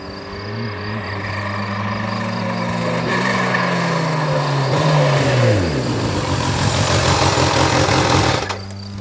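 A Kawasaki H2 SX supercharged motorcycle engine running steadily nearby, a loud continuous drone whose pitch shifts and rises slightly midway before cutting off near the end, without talk.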